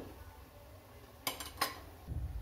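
A lid set onto a cooking pot of sambar gives two quick metallic clinks close by, followed by a soft low sizzle in an otherwise quiet kitchen.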